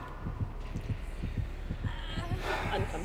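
A soft heartbeat sound effect from a video game set in a meat plant pulses in an even rhythm of paired, muffled thumps, low and quiet. A faint hum runs underneath, with a brief airy swell near the end.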